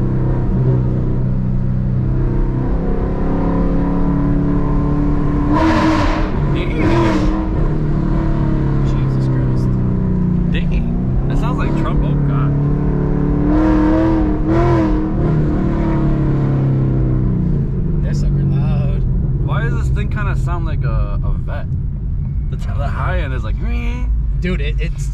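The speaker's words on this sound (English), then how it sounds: "Headers, catless, and stock exhaust. Stock active exhaust." A Ford Mustang with headers, catless and stock active exhaust accelerates hard inside a tunnel, a loud continuous engine roar rising and falling across gear pulls, with people talking over it.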